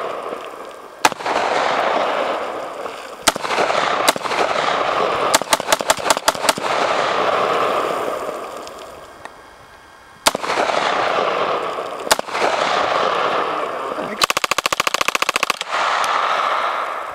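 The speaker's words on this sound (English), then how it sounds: "Go ahead, shoot it." Outdoor gunfire aimed at a fishing float on water: bursts of sharp shots, some in rapid strings, ringing out loud and close over a constant roaring background, with pauses between volleys.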